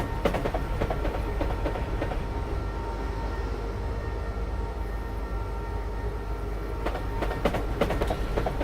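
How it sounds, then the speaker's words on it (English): An electric train runs in Dovetail's Train Simulator, a steady low rumble with faint rhythmic clicking of wheels over rail joints, fairly quiet and continuous throughout. "Something tells me that this is an electric train."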